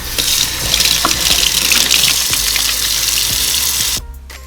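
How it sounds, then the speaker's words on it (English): Tap water runs steadily into a kitchen sink while hands are washed under it, a close, even splashing rush that stops abruptly near the end. "let's wash our hands and begin"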